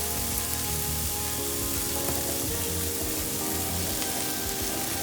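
Onion frying in a pan next to a pot of boiling potatoes, for a potato and mushroom pie, makes a continuous close sizzle and crackle, fairly loud and unbroken, with no voices.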